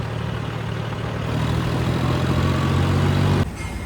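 A John Deere tractor engine rumbles steadily close by, a low, even mechanical drone that drops off abruptly near the end.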